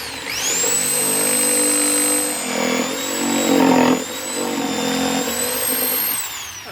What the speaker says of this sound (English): So I'm going to give it a go with the jigsaw